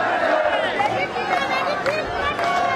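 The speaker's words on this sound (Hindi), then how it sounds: "दोनों तरफ से हजारों लोगों की भीड़ हुजूम यहां पर आ रहा है" A crowd of thousands of protesters outside the Sri Lankan Prime Minister's office, a dense, continuous roar of shouting and chatter with no single voice standing out.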